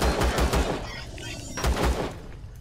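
Gunfire in the video game Empyrion as the player shoots turret robots: rapid bursts of loud shots, one volley at the start and another shorter burst a little later.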